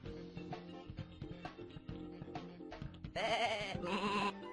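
A sheep in the Sheep Raider video game gives a loud, wavering bleat near the end, breaking over a busy, rhythmic game soundtrack.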